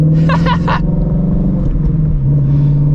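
A stock Shelby GT350's engine idles in a steady low rumble throughout, with a brief burst of higher-pitched rasp near the start.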